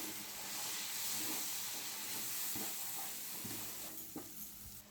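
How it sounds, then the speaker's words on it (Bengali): A masala paste of turmeric and Kashmiri chili powder with a little water frying in a pan for butter chicken, giving a steady close sizzle and hiss with a few soft stirring scrapes and no talk. "মশলাটা ভালো করে কষিয়ে নেব।"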